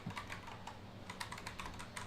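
Rapid, steady typing on a computer keyboard, close but quiet, with a continuous patter of key clicks and no voices.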